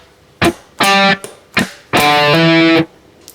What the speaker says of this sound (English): So that first bar together should sound like this.